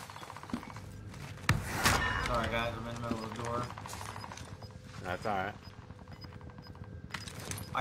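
Call of Duty match with gunshots, including a sharp loud crack early on and more shots scattered through. Players talk over the action.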